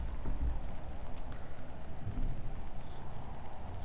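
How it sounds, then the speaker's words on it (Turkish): Acid rain in a Roblox game makes a dense, steady patter with faint scattered drips, constant and fairly close throughout. "bayağı bir asitli bir yağmurmuş"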